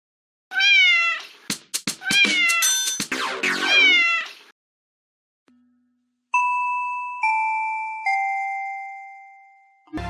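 Several cat meows from a Minecraft PE survival addon come in quick succession, loud and close, followed by a short pause and then a run of bright, sustained chime-like tones.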